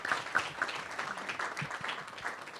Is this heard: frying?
no